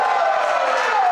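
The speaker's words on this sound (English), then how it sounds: "The crowd is cheering" A dense, steady roar of crowd cheering at a Chicago Bocce League match, loud and continuous through the whole short moment with no gaps.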